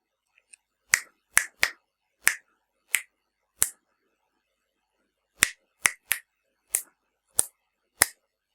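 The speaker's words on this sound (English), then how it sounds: "I want you to listen carefully to the rhythm that I'm going to click out" Finger snaps or clicks tap out the rhythm of a familiar tune, twelve crisp dry clicks in two phrases of six separated by a short pause, close and alone in a quiet room.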